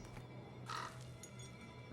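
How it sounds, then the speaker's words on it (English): A crow caws in the eerie garden of the video game The Haunting of Castle Malloy, one short call near the middle over a low ambient hum, with a second brief sound at the end. "Wonder what that crow's doing in there."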